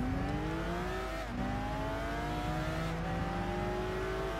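Nissan Skyline race car engine in Gran Turismo 6, revving steadily with rising harmonic whine, a brief dip as it shifts or lifts off, then climbing again, loud and close with no talk.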